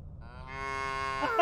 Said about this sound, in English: There's a bunch of cows on the field.